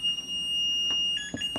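Error beeping from a malfunctioning Maytag Neptune washing machine: a steady high electronic tone holds throughout, with a second tone joining near the end and a couple of brief clicks, close and fairly loud with no talk.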